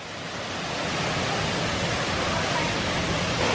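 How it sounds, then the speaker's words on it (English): A waterfall in full flow after heavy rain, heard as a dense, steady broadband rush that swells slightly at the start and then holds loud and constant. "And then you've got the waterfalls coming up here now."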